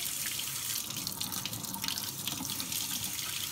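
A Kohler Task semiprofessional kitchen sink faucet sprays water in a steady, close, hissing rush into the sink, with no voices.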